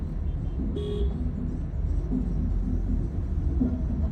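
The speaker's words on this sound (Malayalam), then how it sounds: "ഇങ്ങനെ ഒരു ഹോൺ അടിക്കാം" A Honda City's horn gives a short toot over the steady rumble of the car's engine and road noise during an automatic driving lesson in Kollam.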